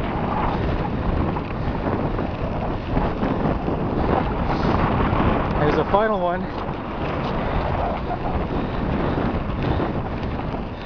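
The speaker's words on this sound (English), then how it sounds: "Wow, is it ever windy today?" Heavy gusting wind buffets an outdoor microphone for about eleven seconds, a constant low rumble and roar under a voice as he speaks.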